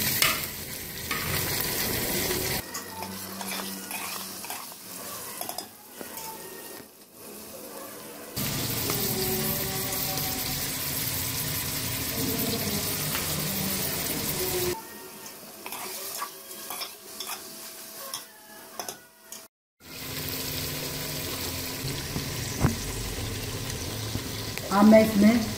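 Meat frying and being stirred in a pot for chicken biryani, a steady sizzle with scraping stirs, the hiss dropping out in quieter stretches and returning, with no talk over it.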